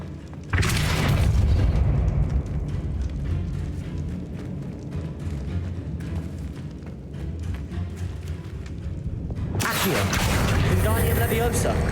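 A Depulso spell fires in Hogwarts Legacy as a loud booming blast rings out, followed by a long rumbling, clattering stretch and a second heavy burst near the end, with a voice speaking over it.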